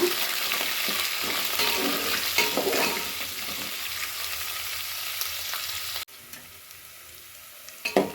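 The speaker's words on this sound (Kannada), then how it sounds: "ಈರುಳ್ಳಿ, ಮೆಣಸಿನ್ಕಾಯಿ ಮತ್ತು ಕರ್ಬೇವಿನ ಸೊಪ್ಪು ಕೂಡ ಹಾಕ್ಕೊಳ್ಳೋಣ. ಹಾಕ್ಕೊಂಡು ಚೆನ್ನಾಗಿ ಫ್ರೈ ಮಾಡ್ಕೊಳ್ಳೋಣ" Onion, green chillies and curry leaves frying in oil for vegetable uppittu, a loud crackling sizzle with stirring scrapes that fades gradually, then drops sharply to a quieter hiss with a few clatters at the end.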